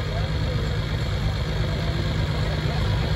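A drag racing car idles at the start line before a run, a loud, steady low rumble with a constant hiss layered above, unbroken throughout with no revving.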